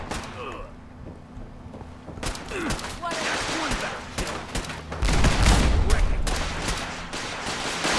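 Rapid gunfire in the video game Fallout 4, with steady bursts of shots growing louder and denser toward the end while a person talks over it.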